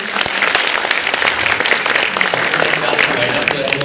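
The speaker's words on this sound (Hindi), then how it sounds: "तालियां प्लीज जोरदार करिए।" An audience applauds at a felicitation ceremony in a coaching class, a dense and loud burst of clapping that holds steady for several seconds while a voice talks over it.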